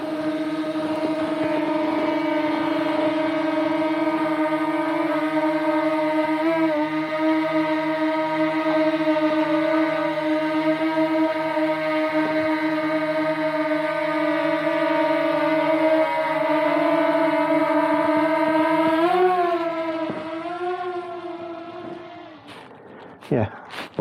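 A DJI Mini 2 drone flies near Barton Broad and How Hill on the Norfolk Broads, making a loud, steady, high-pitched whine that holds for about twenty seconds, then wobbles and fades.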